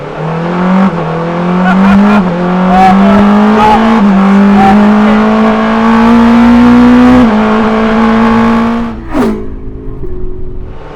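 A road-legal Porsche 963 race car drives past with a loud, sustained engine note that climbs steadily through the revs, shifts down near the end and then settles into a lower idle-like drone.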